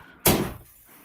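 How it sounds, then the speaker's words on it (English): A door opening or closing indoors, a single sharp thud with a short rattle that fades quickly, heard alone and fairly close. "and I hear a door"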